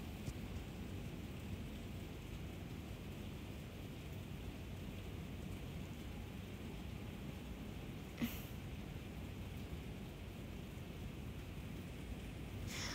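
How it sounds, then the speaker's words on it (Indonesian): Heavy rain falling as a steady, dense hiss throughout with a single brief sharp crack partway through and no talking. "Ih kok hujannya jadi parah sih guys?"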